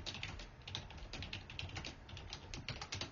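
Rapid typing on a computer keyboard, a steady run of light key taps close up with no talk, while entering text in a LaTeX document.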